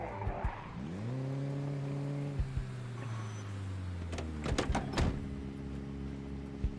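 A car brakes hard and skids in Project Zomboid, with a long sustained tire squeal over the steady engine drone, then a few sharp knocks and thumps near the end, all loud and close.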